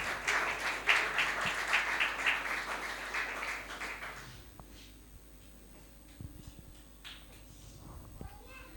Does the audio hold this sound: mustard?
no